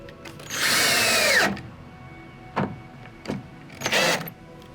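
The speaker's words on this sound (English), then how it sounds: "Teaching Misty how to use a drill." A power drill whirs in one long burst and winds down, followed by three shorter revving bursts, close by with no talking, during a van conversion ceiling and insulation build.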